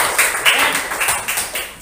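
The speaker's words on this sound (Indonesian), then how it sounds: "tepuk tangan dulu dong." A group claps together indoors, giving a brief burst of fairly close hand claps with an uneven rhythm that fades out quickly.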